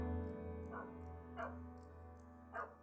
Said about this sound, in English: I apologize for the dog. I guess he's just very barky right now.